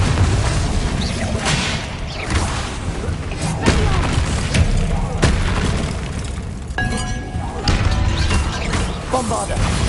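Confringo spell blasts go off in the video game Hogwarts Legacy as a rapid series of booming, shattering bursts with whooshes, dense and loud throughout, mixed with combat effects and some voice.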